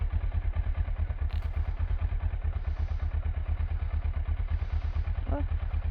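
A warm motorcycle engine idles with a steady, rapid thumping pulse, close and loud throughout, with someone talking over it.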